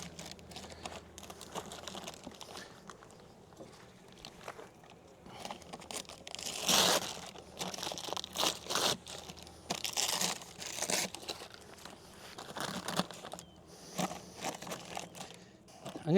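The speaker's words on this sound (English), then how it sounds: "I'm going to take some paper, lay it over the top of the hive just like this." Paper is laid over the top of a beehive, giving off repeated crinkling, rustling and crunching bursts close up, with quieter handling noises between them.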